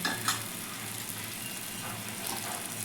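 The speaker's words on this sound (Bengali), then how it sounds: "মশলার গা থেকে তেল ছাড়ছে আমি এবার ফেটানো টক দইটা দিয়ে দেবো" Beaten sour yogurt hits a pan of sizzling fried spice masala for a Bengali doi pabda fish curry, giving a steady close hiss of frying that holds at an even level with no voices.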